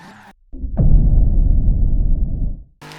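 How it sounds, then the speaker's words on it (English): Tires skidding as a car spins continuous donuts in Forza Horizon 3, a loud, sustained engine-and-tire roar that holds steady for about two seconds before cutting off. "I could keep doing donuts around the same spot non-stop with like incredible control of this car"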